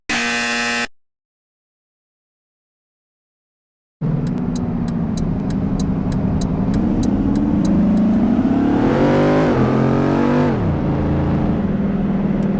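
A car drives along SR65 between Sherryville and Angel City. A short tone gives way to silence, then a steady engine drone climbs in pitch and drops back as it shifts, with light regular ticking over it.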